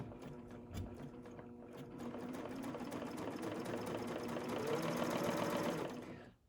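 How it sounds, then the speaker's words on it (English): A serger sews a rolled edge on batik rayon fabric, running in a fast, steady mechanical whir with rapid needle clatter, close up and moderately quiet, then stopping at the end. "and then I'm going to continue serging."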